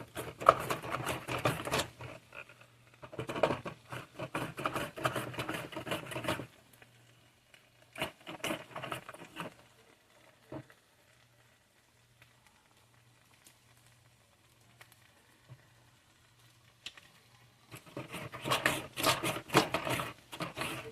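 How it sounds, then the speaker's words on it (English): Onions and green peppers are sliced on a mandolin, making bursts of rapid, rhythmic scraping and chopping strokes at close range. The bursts are separated by quieter pauses with faint handling noise and a low steady hum. "now we're going to start putting in the onions and green peppers. I'm going to use the same mandolin"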